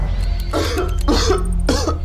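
Three harsh coughs in quick succession, close and loud, over a steady low hum.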